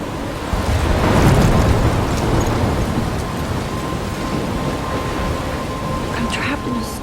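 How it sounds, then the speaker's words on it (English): A thunderstorm in the video game Life is Strange, with steady loud rain and a rolling rumble of thunder that holds throughout. "I'm trapped in a storm?"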